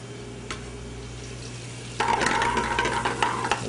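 Sage leaves drop into melted, frothing butter in a pan for a shrimp-filled pasta sauce. A soft bubbling gives way to a sudden, louder crackling sizzle partway through.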